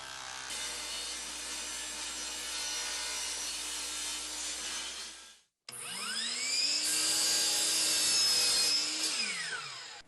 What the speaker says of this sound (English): the hacksaw does its thing